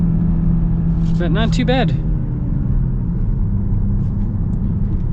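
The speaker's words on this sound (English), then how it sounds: "Oh, let's get a little acceleration here." A 2025 BMW X1 with a 4-cylinder engine accelerates, giving a steady, loud low engine rumble throughout while a person talks briefly over it near the start.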